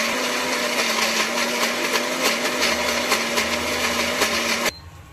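An electric mixer grinder whirs loudly and steadily while grinding roasted peanuts, tomato and onion for groundnut chutney, its motor holding a constant pitch before cutting off abruptly near the end.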